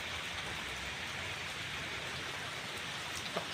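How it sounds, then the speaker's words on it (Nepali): Light rain falls steadily on rice paddies in a village, a soft, even hiss of drops that holds at a constant level throughout with no voices. "हल्का फुल्का चाहिँ पानी चाहिँ परिरहेको छ है त।"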